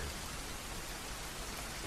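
Steady, soft rainfall, a continuous even hiss of drops with no voices over it.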